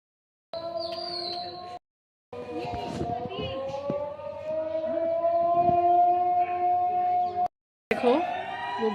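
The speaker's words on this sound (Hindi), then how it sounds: "अभी नीचे सायरन की आवाज़ सुनाएगा" A civil defense siren wails steadily for several seconds during a mock drill, with a sustained rising and falling tone, interrupted by brief gaps, with faint chirping and voices in the background.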